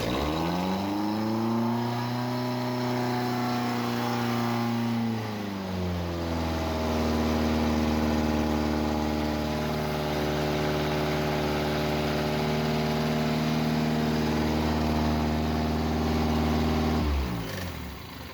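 A Coventry Climax fire pump engine runs steadily and loudly nearby, its pitch dropping then settling into an even, rough drone before it briefly changes near the end.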